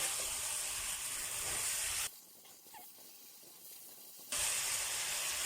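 Kaffir lime leaves sizzle in a pan during an oil-free chicken and bamboo shoot stir-fry, a steady loud hiss that cuts out for about two seconds midway, then returns just as strong.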